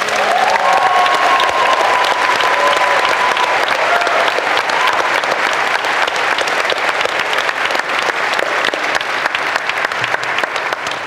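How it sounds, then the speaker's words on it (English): A large audience claps in sustained, dense applause that carries on evenly and then gradually thins toward the end. "can we have a round of applause for HY?"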